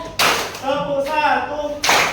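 A class of schoolchildren claps together on the teacher's cue, giving sharp, loud bursts of hands at the start, middle and end, with young voices chanting in between.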